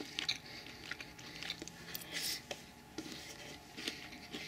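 Quiet, close crunching bites and chewing of firm, slightly undercooked sweet potato, a few crisp snaps scattered over a soft background.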